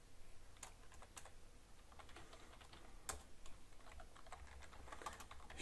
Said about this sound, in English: Because I randomly hit keys.